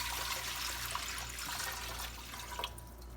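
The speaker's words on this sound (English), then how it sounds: "let's get some water in here." Water from a tap runs and splashes into a pot meant for steaming yarn during dyeing, a quiet steady trickle that fades slightly toward the end.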